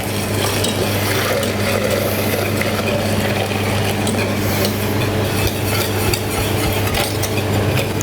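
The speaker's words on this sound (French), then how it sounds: "on va prendre le lait et on va l'incorporer d'un coup dans le roux pour former la béchamel" Boiling milk is whisked into a roux to make béchamel, a steady bubbling, sloshing liquid sound with a continuous low hum running beneath it throughout.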